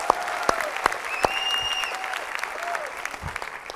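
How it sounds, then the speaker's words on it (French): An audience at a TEDx magic show in Algiers applauds warmly, a steady, fairly close wash of clapping with a few sharp claps and faint whistle-like tones, lasting the whole few seconds. "J'aimerais qu'on les applaudisse, s'il vous plaît."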